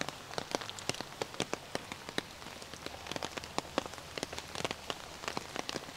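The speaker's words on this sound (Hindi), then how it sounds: "बरसात का मौसम है" Rain falls steadily in the rainy season, with sharp, irregular drops tapping close by on a hard surface over a soft wash of rainfall, no voices.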